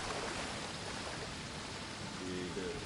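A waterfall in the Elden Ring video game gives a faint, continuous rushing hiss of falling water, steady and unbroken throughout.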